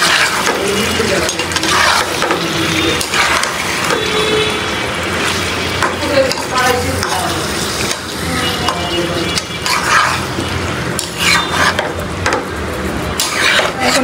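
Meat and potatoes being stirred and fried in a pot, with steady sizzling and wooden scraping throughout, loud and close, along with background noise.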